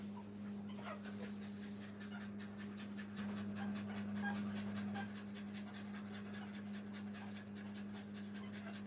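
A mother dog pants steadily and rhythmically while her newborn puppies nurse, with faint squeaks and small noises from the litter over a constant low hum.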